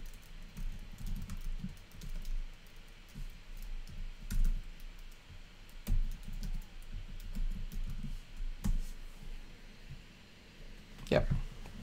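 Computer keyboard keys typed in short bursts of soft clicks over a steady low background hum, fairly close, with no voice heard.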